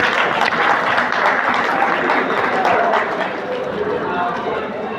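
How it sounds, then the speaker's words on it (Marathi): A crowd at a retirement felicitation ceremony claps loudly and steadily, a dense wash of applause that eases a little toward the end, with a voice speaking over it. "जोरदार टाळ्या होऊन जाऊ दे"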